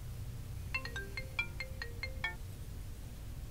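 A phone ringtone from an incoming automated test call: a quick run of about eight bright, chirpy electronic tones in just over a second, fairly faint over a low background hum.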